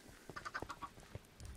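A duck from Minecraft Dungeons gives a quick run of soft quacks and clucks, close but faint, with a few scattered game sounds after.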